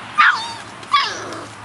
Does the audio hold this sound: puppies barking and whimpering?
yes